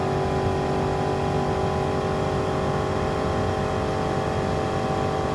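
A Bugatti Veyron in a racing video game holds a steady, loud, continuous engine drone with a high mechanical whine throughout, showing no clear rise or fall in pitch.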